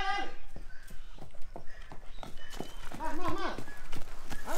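Horse hooves clip-clop at a steady walking pace on a farm, with people talking over the hoofbeats throughout.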